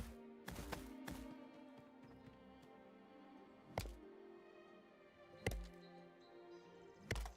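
Axe chops on trees in the video game Avowed: sharp wooden impacts, some in quick pairs and others spaced a second or more apart, over a steady low game music bed.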